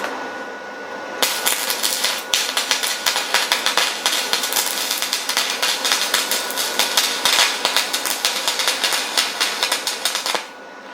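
Stick welding with a J422 rod lays a bead, a loud, steady, close crackle and sizzle that runs unbroken for about nine seconds before cutting off abruptly.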